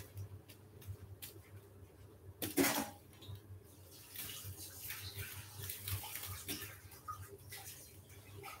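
Kitchen tap water running while dishes are rinsed mid-cooking, a soft continuous flow with a sharp clatter of a pan or utensil early on and light handling noises after.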